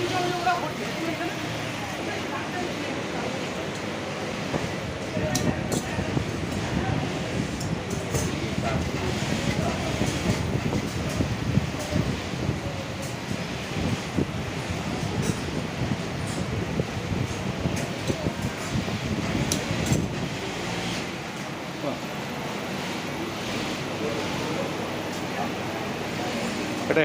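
Industrial sewing machines stitch jute bags on a Bengal factory floor, making a dense, continuous mechanical drone that stays loud throughout, with voices talking over it.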